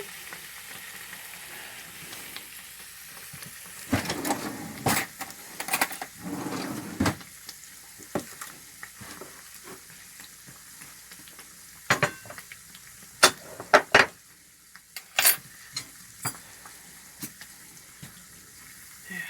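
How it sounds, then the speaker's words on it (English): Scones frying in bubbling hot oil give a continuous hissing sizzle, broken by irregular sharp clinks and clatters of a utensil against the pan. "My oil's heating up a little bit more. See all the nice bubblings?"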